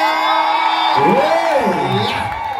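A rally crowd cheers and whoops for Kenyan MP Ndindi Nyoro, a loud sustained roar with rising yells, heard continuously throughout.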